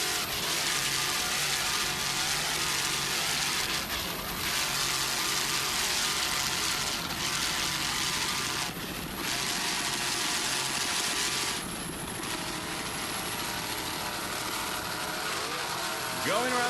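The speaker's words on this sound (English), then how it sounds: "Nice throttling there by Chuck Burke." Offshore racing powerboat engines roar at full throttle in a loud, sustained blare at the Point Pleasant Beach, New Jersey offshore grand prix, with a commentator speaking over it.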